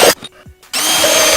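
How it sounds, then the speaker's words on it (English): A power drill bores into the aluminum transom of a newer Bass Tracker boat, a short burst, a pause with light clicks, then a sustained close whine as the bit cuts through the metal. "now we're going to drill the holes in this."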